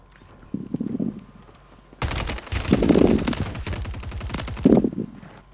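Automatic gunfire from the Warzone 3 video game, rapid bursts of machine-gun shots crackling loud and close for several seconds after a quieter start, with shouted game voices in between.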